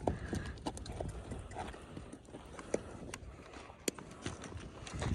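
Several horses' hooves clip-clop at a walk near a fort in Bahrain, with sharp irregular knocks over a busy outdoor background.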